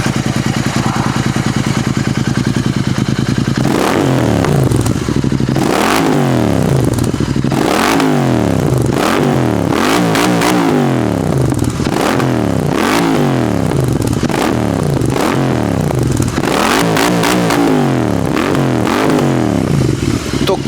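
Royal Enfield GT 650 motorcycle fitted with an SSP exhaust and BMC air filter revving hard again and again over a deep idle, each loud rising roar falling back in quick rhythmic bursts, close to the exhaust.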